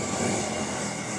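A 1300cc jet ski engine running after starting, a steady droning motor hum at moderate level with no distinct start or stop, and no speech over it.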